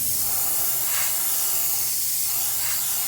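Airbrush spraying paint onto a wooden crankbait lure, a steady close hiss that swells in short pulses, with no talk.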